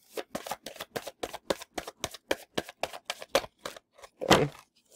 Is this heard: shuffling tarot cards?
yes